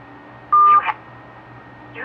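A single short keypad tone from a phone sounds while a voicemail password is being entered, a brief bright beep followed by a quieter chirp over faint background hum.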